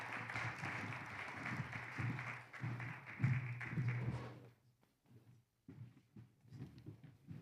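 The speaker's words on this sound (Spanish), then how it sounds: "vamos a recibirle con un aplauso de gratitud, de fraternidad" Congregation applauding at a missions congress church service, a broad steady wash of clapping for several seconds that fades out, followed by a few scattered sounds.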